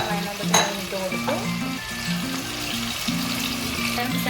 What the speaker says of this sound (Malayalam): സൺഫ്ലവർ ഓയിലാണ് ഞാൻ വറുക്കുന്നത്